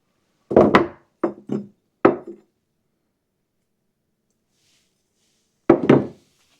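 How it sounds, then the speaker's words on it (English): Sharp metallic hammer blows drive new bearings into a Toro Super Recycler mower, striking in quick clusters of two or three, then a pause before a final pair, close and crisp in a quiet room. "Driving the new bearings in."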